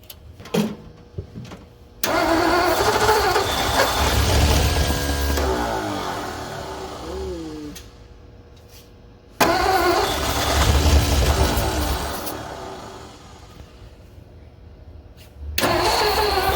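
A 1956 Ford Fairlane engine cranks, fires and roars to life twice, each start surging loud before fading toward a rough idle, with a final restart at the end.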